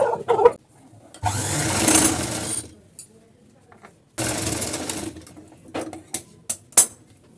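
A sewing machine stitches a strip onto a blouse collar in two bursts of fast, whirring mechanical chatter, each lasting a second or two. Quieter handling noises and some talk fill the gaps between them.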